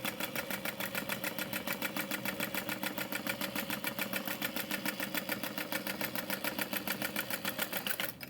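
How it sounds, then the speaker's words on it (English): A sewing machine runs steadily, stitching across tote bag interfacing with a fast, even mechanical chatter that holds close and loud for the whole stretch, ending with a slight drop at the close. "I'm gonna sew across that twice, once at like 1/8 and once at 1/4"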